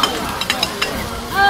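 Garlic chives being stir-fried hard in a hot oiled wok at a roadside market stall, with steady sizzling and a few sharp scraping clinks of the spatula against the pan.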